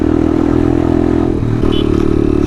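A motorcycle on the ride to Gorkha Durbar in Nepal, after the earthquake, gives a loud, close, steady engine drone with a brief dip midway and no talking.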